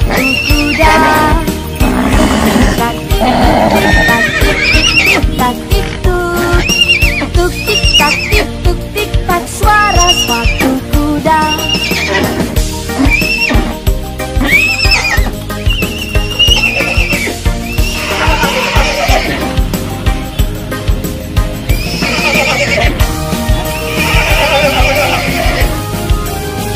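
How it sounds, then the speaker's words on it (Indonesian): A horse neighs repeatedly over a cheerful Indonesian children's song about a delman horse cart, with faint clip-clop hoofbeats woven into the steady musical backing throughout. "tik tak tik tuk tik tak suara sepatu kuda"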